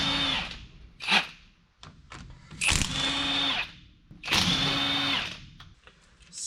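A power tool zips bolts out of a 14-bolt axle on an old square body truck, three loud whirring bursts with pauses and clanks between them, close by.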